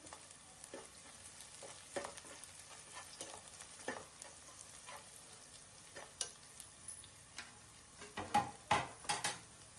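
Fenugreek seeds hiss and sizzle steadily in hot oil for a crab curry, with scattered sharp spoon-on-pan clicks and taps that grow louder and more frequent near the end.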